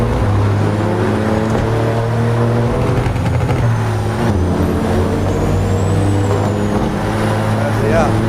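A two-stroke truck engine in American Truck Simulator revs and shifts pitch, its throaty harmonics rising and dropping, with voices mixed in.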